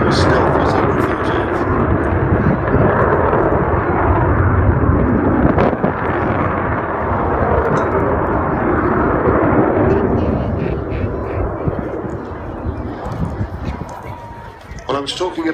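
A delta-winged Avro Vulcan XH558 bomber passes at an airshow, its loud, broad jet roar sustained throughout and easing slightly as it moves away, with a commentator speaking over the noise.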